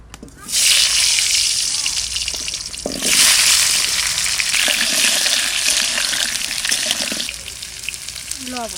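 Duck meat frying in a little oil in a pan, sizzling loudly and steadily almost the whole time, with stirring scrapes and brief clatters breaking through the hiss.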